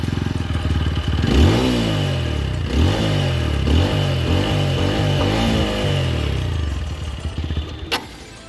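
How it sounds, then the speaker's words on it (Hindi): A TVS Apache motorcycle with about 15,000 km on it fires up on its electric self-starter, then revs repeatedly in rising and falling bursts with a throaty exhaust note, close and loud, before cutting off. "भाई एग्जॉस्ट नोट भी सुनाते ही हैं"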